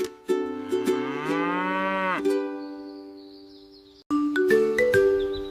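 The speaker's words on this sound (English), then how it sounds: "A baby cow is called a calf." A cow moos in several long, loud calls with a falling tone, then a brief quieter pause before more lowing resumes, heard alone with no talk.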